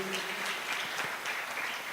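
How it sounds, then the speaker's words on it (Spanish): Steady applause from a church congregation at a closing plenary service, dense, even clapping filling the room for about two seconds with no pause, heard at a moderate distance. "Então vamos aplaudir ao Senhor por esses irmãos."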